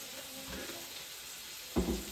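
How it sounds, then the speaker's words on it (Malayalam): Food frying gently on a low flame, a soft, faint sizzle running steadily with a couple of brief clinks or stirs. "സിമ്മിലിട്ടാണ് വറുക്കുന്നത്"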